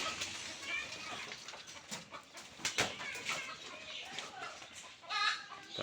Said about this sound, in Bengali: মুরগিগুলো খাওয়ার জন্য খুব ক্ষুধার্ত